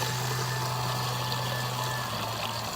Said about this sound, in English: Literally just put water in it.